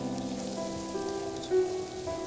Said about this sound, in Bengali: তো অনেক বৃষ্টি হচ্ছে